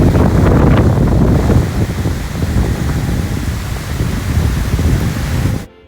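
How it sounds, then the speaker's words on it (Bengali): Sudden heavy rain pours down in a loud, dense, steady roar for about five and a half seconds before cutting off abruptly. "এইদিকে হঠাৎ করে ঝুমঝুমিয়ে বৃষ্টি নামলো"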